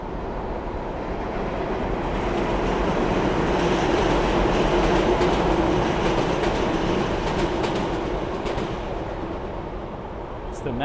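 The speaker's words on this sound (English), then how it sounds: "The metro rail." A Miami Metrorail train rolls past in downtown Miami, a steady, loud rumble with rail clatter that swells through the middle and fades slightly toward the end, with city noise around it.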